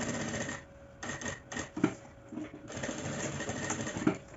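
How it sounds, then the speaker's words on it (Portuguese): A sewing machine stitches a small fabric baguette bag with a stitch width of 3, running in a fast steady whir with short stops and restarts, close and fairly loud, without talk. "Eu vou costurar com uma largura de ponto 3."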